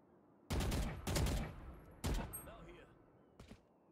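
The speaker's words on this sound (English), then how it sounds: "It's a machine gun!" Machine gun fire in the video game Valorant: loud, close bursts of rapid shots in three main volleys, followed by a faint short burst at the end.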